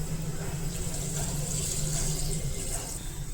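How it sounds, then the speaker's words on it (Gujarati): Water poured over soaked kidney beans (rajma) while making a rajma-potato curry, a steady continuous splashing fill that runs throughout at moderate level. "રાજમા બુડે તેટલું પાણી નાખીશું"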